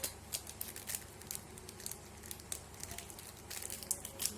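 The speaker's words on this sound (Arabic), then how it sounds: "هفتح كيس الخميره وهفضيه على البيض" A yeast packet crinkles and tears open as it is emptied onto eggs in a kitchen, with steady papery rustling and crackling up close and no talking.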